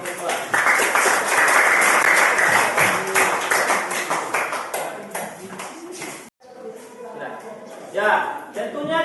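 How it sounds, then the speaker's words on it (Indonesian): Classroom applause for a student group, many pairs of hands clapping loudly for several seconds, fading into scattered claps before a voice starts speaking. "tepuk tangan dulu buat kelompok 2"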